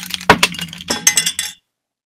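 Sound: piece of glass dropped on a desk

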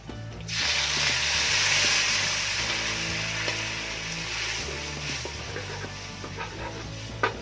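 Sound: shrimp stock added to frying curry paste

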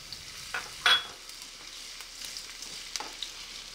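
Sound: onion frying in olive oil for eggplant stuffing

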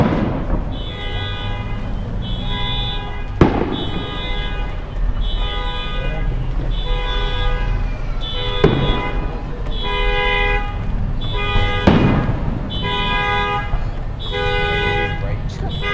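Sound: fireworks and car alarms

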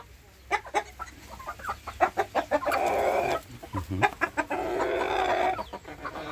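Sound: startled chickens clucking

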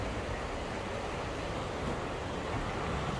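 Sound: canal water flowing

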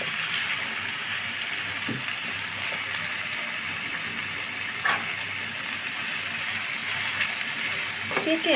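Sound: vegetables frying in a pan

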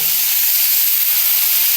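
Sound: vegetables sizzling as they fry in a pan

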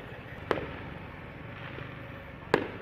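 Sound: fireworks going off for Chinese New Year

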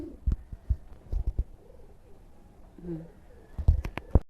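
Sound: pigeon cooing

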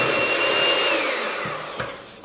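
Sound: electric mixer whisking meringue for pandan chiffon cake

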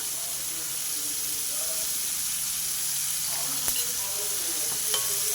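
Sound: onions frying in a pan

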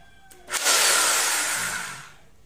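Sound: Ingco rotary hammer drill running

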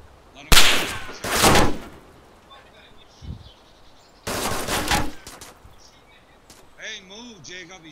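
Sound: gunfire in DayZ video game, shooting through a wall

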